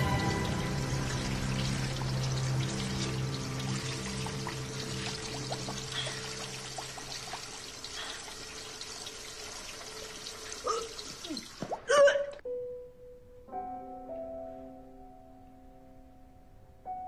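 Water pours steadily for about twelve seconds to rinse eyes after xylene exposure in a laboratory. The flow then cuts off abruptly, followed by a brief clatter and faint tonal sounds in a quiet room.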